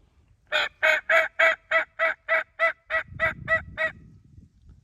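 A wild turkey tom gobbles in a rapid run of about a dozen loud, evenly spaced notes, fairly close. A low rumbling background joins in partway through.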